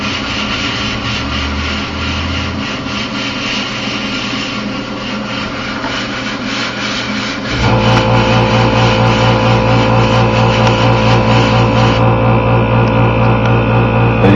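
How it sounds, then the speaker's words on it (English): Air compressor running in a workshop during helmet riveting: a steady, loud mechanical drone that steps up into a heavier, fuller roar partway through and then carries on unbroken. "you guys will hear that compressor going off"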